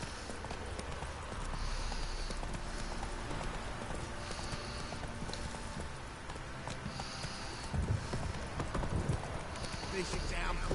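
Horse hooves clip-clop steadily in The Witcher 3 video game, a rhythmic trot under rain ambience, with a voice speaking over it and brief snorts near the end.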